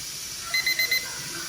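Kitchen timer set for a pressure cooker going off with four quick, evenly spaced high beeps over a steady hissing background.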